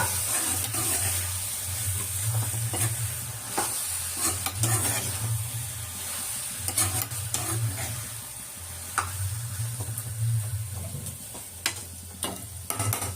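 Steady sizzling of country-chicken pepper masala frying in a pan, with repeated scraping and stirring strokes throughout; close and fairly loud, no talking.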